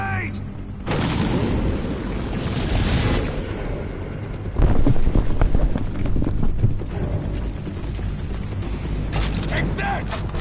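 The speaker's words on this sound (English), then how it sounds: "Grenade!" A grenade explodes in Metal Gear Solid V: The Phantom Pain, a loud rumbling blast over dense mechanical battle noise, with voices shouting around it.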